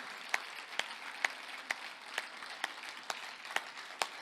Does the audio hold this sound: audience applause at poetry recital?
yes